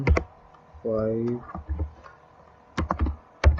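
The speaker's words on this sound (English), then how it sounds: "Okay, let's type the commands ping" Typing on a computer keyboard to enter a networking ping command: a few short bursts of key clicks spread across the clip, close and fairly quiet, with a brief tone and some speech in between.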